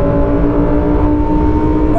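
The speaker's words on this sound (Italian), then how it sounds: "guarda come riaccelera fuori dalla curva" A Lamborghini Huracan Performante with 380 mm carbon-ceramic brakes accelerating hard out of a corner, its engine a loud, continuous steady drone held close throughout with no voices.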